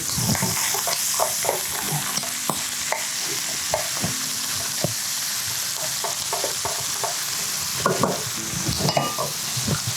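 Turmeric frying in oil with onion for a Nepali chicken gizzard fry, a steady sizzle broken by frequent scraping and tapping stirring strokes against the pan, near and moderately loud, without speech.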